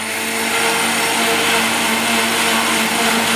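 A mixer grinder whirs steadily and loudly, grinding chili and turmeric with water into a paste for fish curry, a continuous close-up motor drone with no pauses.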